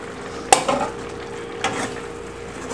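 Seitan drops into a boiling Chinese orange sauce with a sudden sharp splash and sizzle, then a softer second stir-like clatter over a steady bubbling simmer.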